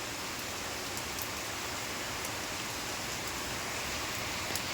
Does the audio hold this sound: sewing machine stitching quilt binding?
no